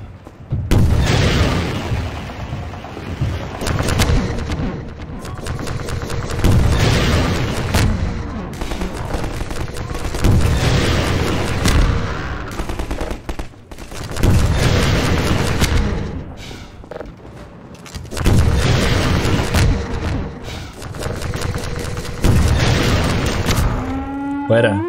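Video game gunfire and explosions from Half-Life 2 arrive in repeated loud booming waves with rumbling low end, dense and close, separated by short quieter gaps.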